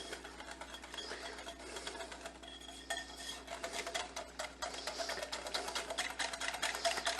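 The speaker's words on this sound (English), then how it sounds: "So we just want to whisk that till it's smooth again" Macaroni salad dressing being whisked in a bowl, a rapid continuous clatter of a whisk against the bowl, close and steady, growing slightly louder and choppier toward the end.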